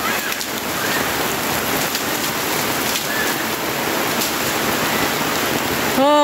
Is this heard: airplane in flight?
no